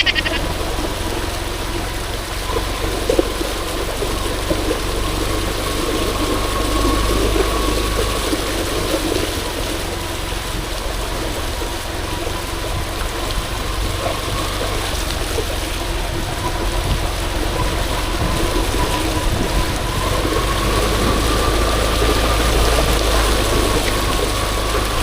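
Steady rushing and splashing of flood water as a motorcycle rides through it, a low engine hum running throughout, no voices, continuous and fairly loud.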